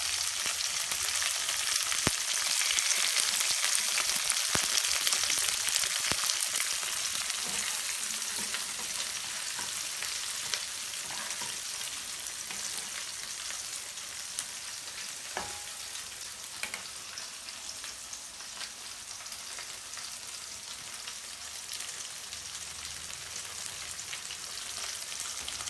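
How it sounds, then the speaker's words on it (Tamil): Shallots and curry leaves sauté in hot oil for a dry fish gravy, a dense, steady sizzle close by with occasional stirring scrapes and clicks, no talking. "சின்ன வெங்காயம் கருவேப்பிலை நல்லா வதக்கிக்கணும்"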